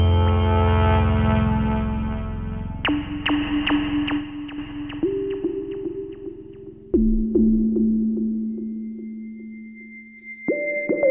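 An Elektron Digitone synth plays sustained tones and plucked notes through chorus, delay and reverb, layered over a track running on a Teenage Engineering OP-Z, with a thick droning opening followed by held pitches that step between notes and echoing tails.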